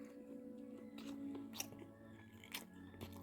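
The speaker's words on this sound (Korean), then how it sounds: "천천히 오랫동안 씹는 게 그게 이제 방법인 것 같아요" Raw oysters chewed slowly as part of an oyster-and-rice meal, heard as close, wet, squishy mastication with occasional soft crunches, steady and intimate, with no talking.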